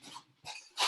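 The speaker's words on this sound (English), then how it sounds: "sorry, my dog." A pet dog whimpers and breathes close by in short, soft bursts, three brief airy whines separated by gaps, quiet and alone with no talking over it.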